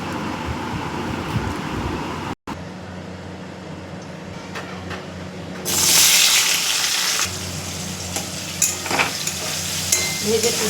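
Pumpkin curry frying in a pan with a steady close sizzle and occasional stirring scrapes, swelling louder midway as the ingredients hit the hot oil, with no talking.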